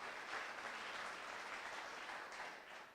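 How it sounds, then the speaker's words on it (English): Steady audience applause at a startup pitch event fills the room, a dense wash of clapping that holds evenly before tapering slightly at the end. "So let's give them a round of applause"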